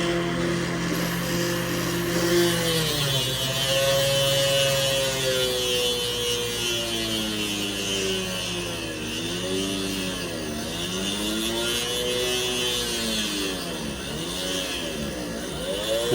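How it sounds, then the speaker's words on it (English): A motorized drill bit carving a jade whistle held in a vise, a steady whining motor hum whose pitch repeatedly dips and climbs as the speed changes and the bit bites into the stone. "So the bit is pretty much all the way in. I'm going to increase the motor speed a little bit."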